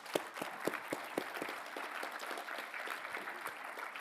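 Applause from an event audience for a group of debate speakers, a steady dense patter of many hands clapping throughout, moderately distant with no voices.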